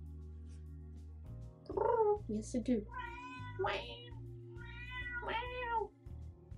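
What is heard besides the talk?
cat meowing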